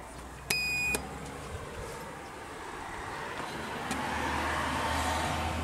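ThyssenKrupp Evolution machine-room-less lift at Bacharach station, a short electronic chime followed by a steady low running hum that gradually swells, no talking.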